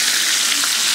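Trout frying in a frying pan gives a steady, close, dense sizzle that stays even throughout, with no voices.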